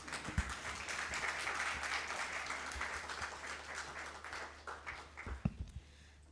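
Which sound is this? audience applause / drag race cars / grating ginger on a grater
audience applause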